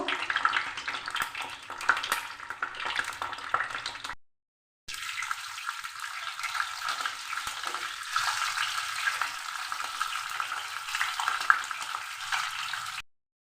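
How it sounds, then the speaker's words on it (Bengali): Continuous hissing sizzle of a catfish head frying in hot oil, briefly cutting out and then resuming steady and close. "এবার মাছ আমার লাল লাল করে ভাজা হয়ে গেছে।"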